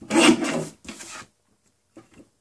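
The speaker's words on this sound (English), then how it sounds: "Rotate that 6 by 12 again and trim it horizontally at 8 and 4." A paper trimmer slices through cardstock while photo mats and strips are cut for scrapbook pages: two quick, close rasping strokes, then a fainter short third. No voices.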